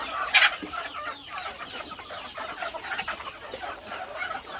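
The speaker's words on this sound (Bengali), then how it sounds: "এভাবে আমরা প্রতিদিন আমাদের দেশি মুরগিকে ঘাস খাওয়াই" Several free-range domestic chickens cluck and murmur steadily nearby while eating grass, with one louder squawk near the start and soft scratching and pecking underneath.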